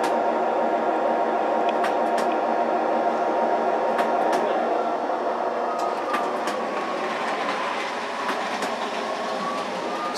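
An American Flyer toy train rumbles steadily along its track with a continuous mechanical hum and faint clicking, fairly close and without any talking.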